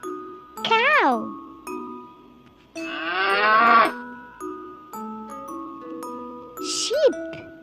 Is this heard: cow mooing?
yes